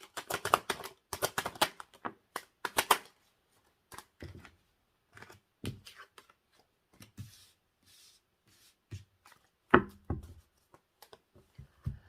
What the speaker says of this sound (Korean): 현재 관계 모습 카드를 뽑아보도록 할게요